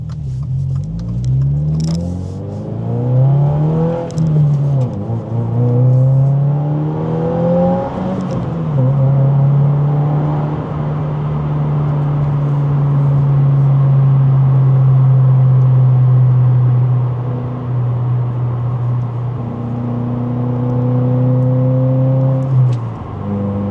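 A 2024 Subaru WRX fitted with a Remark 3.5 inch axleback exhaust drives along, its engine droning low and steady from inside the cabin, rising and falling in pitch through gear changes before settling into a long, even cruising hum.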